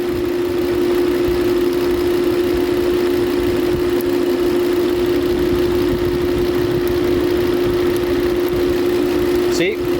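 A 2012 Volvo S60 engine idles with a dead misfire on cylinder 1. It gives a steady, loud, close drone with an even tone and no clear change, and a brief sharp sound near the end.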